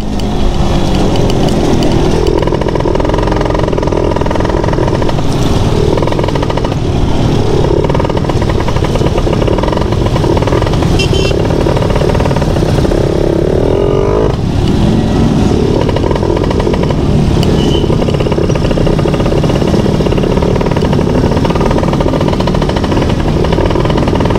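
A motorcycle with a homemade racing CDI rides through dense traffic on a clear day, its engine buzzing loudly and continuously up close with revving swells and surrounding road noise.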